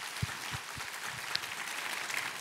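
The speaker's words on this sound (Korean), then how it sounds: "우리 하나님께 감사와 영광의 박수 올려드렸습니다" A church congregation claps together during a Sunday worship service, a soft, steady patter of many hands that holds for a few seconds, with a few sharper claps standing out.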